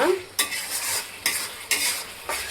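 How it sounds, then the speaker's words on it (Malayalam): Andhra-style tomato chutney with chilli powder and turmeric being stirred in a pan: four or five distinct scraping strokes over a soft sizzle, close and fairly quiet. "നന്നായിട്ട് മിക്സ് ചെയ്ത് കൊടുക്കുക"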